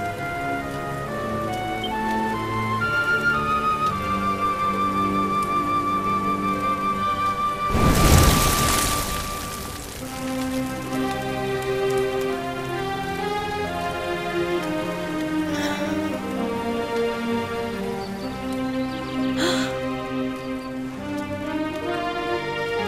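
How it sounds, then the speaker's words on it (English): Rain falls in the video game Dragon Quest 11, a soft steady patter beneath a melodic music score, with a sudden louder burst of downpour partway through before settling back. "Looks like the rain's dying down."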